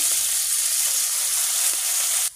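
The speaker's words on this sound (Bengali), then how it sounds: "এই যে রেডি, মাছগুলো ভেজে নেব।" Fish fry in hot mustard oil with a loud, close, continuous hissing sizzle that cuts off abruptly near the end. No speech.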